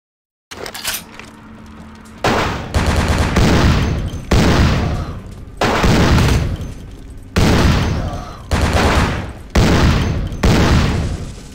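Heavy gunfire in the video game Vampire The Masquerade: Bloodlines, with about eight loud, booming shots fired at irregular intervals, each one ringing out with a long decaying tail.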